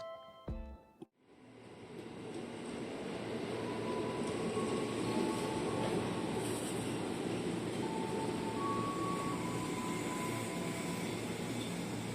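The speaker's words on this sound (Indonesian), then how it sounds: "Nah, ini keretanya udah datang." After a short electronic tone, a KRL commuter train rolls into a station platform with a rising rumble that settles into a steady mechanical drone, faint squeals over it.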